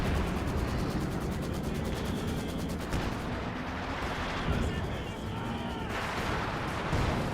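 Heavy gunfire and explosions from a Brummbär assault tank in a Company of Heroes 2 battle, a dense, continuous din of shots and blasts with no clear pauses.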